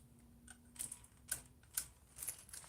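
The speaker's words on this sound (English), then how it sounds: "Right there, that's the ratchet." Repeated clicking from the ratchet in the drivetrain of a Schumacher Cobra RC car with broken drive pins, a handful of sharp ticks at uneven intervals, close and fairly quiet with no talking.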